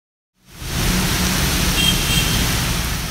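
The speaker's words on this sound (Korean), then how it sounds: "드디어 비가 오네" Steady broadband hiss of rain falling outdoors in the Philippines, starting abruptly and holding constant and fairly loud, with a faint low rumble of road traffic beneath.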